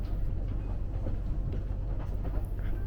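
A Japanese luxury sightseeing train on Shikoku rumbles along the rails, a steady low rolling drone with faint rhythmic clatter, heard from inside at moderate level, with no voices.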